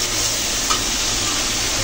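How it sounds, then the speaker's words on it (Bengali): Spices sauté in a pan for a small fish curry with green chilies and potatoes, giving a continuous close sizzle and frying hiss with faint stirring and no talking. "মশলাগুলো কিছু সময় নিয়ে কষে নেব"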